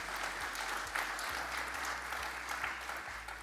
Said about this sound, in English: If you give them all a warm round of applause.